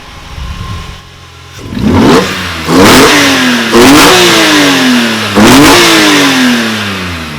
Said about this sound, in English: Want to go hear the airbox? Let's hear it.